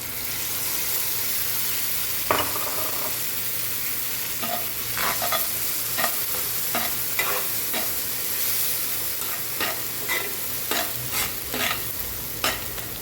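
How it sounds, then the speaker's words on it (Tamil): Ground masala paste, seasoned with turmeric, garam masala and cumin powder, frying in a pan under a steady sizzle, with repeated close spoon scrapes and stirring clacks through the middle and end. "இப்போ அரைச்சி வச்சுருக்கோம் இல்லையா, அந்த பேஸ்ட்டு போடலாம்"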